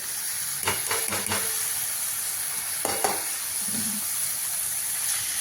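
Boiled banana flower goes into hot masala in a frying pan, setting off a few sizzling bursts and stirring scrapes over a steady close hiss of frying.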